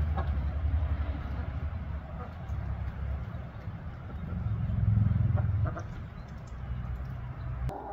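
Hens in a backyard barn cluck softly and intermittently over a low, steady rumble, the calls faint and scattered rather than loud or rhythmic.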